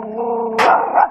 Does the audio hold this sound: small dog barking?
yes